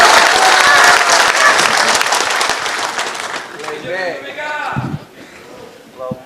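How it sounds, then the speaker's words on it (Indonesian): Audience applause at a party national working meeting, dense broadband clapping that fades over several seconds as a voice begins speaking over it. "tepuk tangan saja kayak ragu-ragu"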